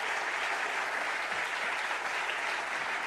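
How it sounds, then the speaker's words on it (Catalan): A steady, full round of audience applause at a Catalan radio association awards ceremony, dense and continuous throughout with no pauses or voices. "senyor Carles, un fort aplaudiment per ell, membre del jurat."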